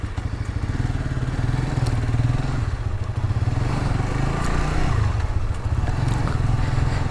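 A Suzuki GSX-R motorcycle being ridden, its engine droning steadily and loudly up close throughout with a constant low rumble and some road clatter.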